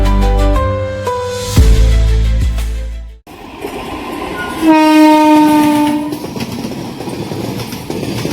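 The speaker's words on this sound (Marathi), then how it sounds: "येताना रेल्वे येत होते" A passing train sounds loud, long blasts of its horn up close while its wagons rumble past, followed by a second run of sustained horn tones over the rolling, rattling noise of the cars.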